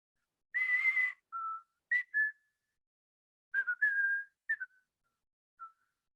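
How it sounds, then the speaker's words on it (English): A person whistles the Blood & Treasure theme tune solo, in clear, close melodic phrases broken by short pauses, with the last notes trailing off softly. "Could you whistle the Blood and Treasure theme now?"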